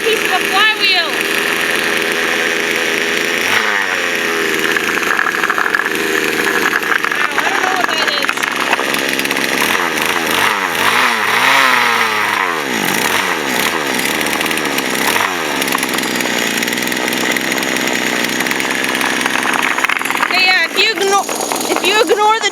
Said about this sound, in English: If you ignore the two-stroke engine screaming